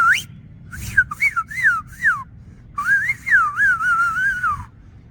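A loud whistle made with the lips alone, no fingers, plays bright warbling melodic phrases in two close, clear bursts separated by a short pause, with no talking.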